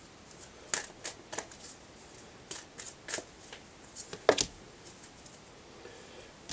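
Moonology oracle cards are shuffled by hand, giving soft, close riffling flutters and light slaps in irregular bursts against a quiet room.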